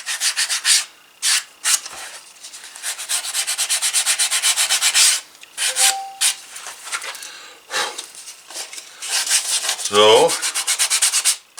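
A leather edge is burnished by hand with quick, rasping back-and-forth rubbing strokes in bursts and pauses, close and fairly loud; a brief spoken word appears partway through.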